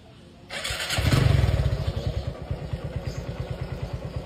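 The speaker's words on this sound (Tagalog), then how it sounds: "Tapos i-start na natin ang motor," A motorcycle engine is cranked on a LiFePO4 battery and catches, roaring up briefly before settling into a steady, rhythmic idle thump, close and fairly loud.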